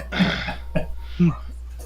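A tabletop role-player fakes a short cough as a hint during a fantasy game session, two brief throaty bursts close to the microphone with a pause between them, the voice imitating a cough.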